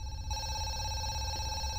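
A telephone rings in the horror zoo game Zoochosis: a steady electronic ringing tone begins shortly after the start and carries on evenly over low background hum, with no talking.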